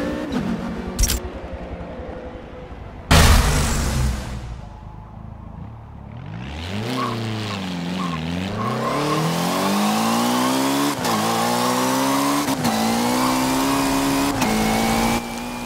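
An Audi S3 TCR race car in Forza Motorsport 7 roars loud and close, with a sharp burst, then a dip and a rising rev through repeated upshifts, each gear change briefly cutting the climbing engine note.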